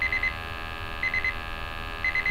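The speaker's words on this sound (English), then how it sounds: "you see the CO, the LEL, and the oxygen all coming in with the alarms" A portable gas detector's alarm sounding for CO, LEL and oxygen during a test: sets of three rapid high beeps repeating about once a second, loud and close over a steady electronic hum.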